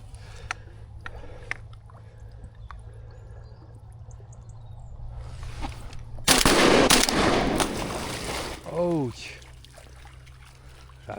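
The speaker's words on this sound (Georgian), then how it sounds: "ორჯერ მომიწია მაინც და ეს სროლა." Shotgun blasts during a duck hunt ring out mid-clip, loud and broad with a lingering tail over an outdoor background hum; a voice sounds briefly near the end.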